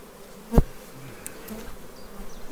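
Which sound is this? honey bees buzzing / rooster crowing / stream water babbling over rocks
honey bees buzzing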